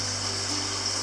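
Small waterfall at White Sulphur Springs on Chichagof Island, Alaska: a continuous, close babbling rush of water with a steady low hum beneath it, no talk.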